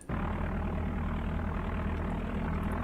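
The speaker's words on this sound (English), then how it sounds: "let's go ahead and get everything started here with our engines" Aircraft engines start up in the Flight Simulator 95 game. The drone kicks in abruptly and holds as a steady, loud, rumbling engine hum with a propeller-like throb throughout.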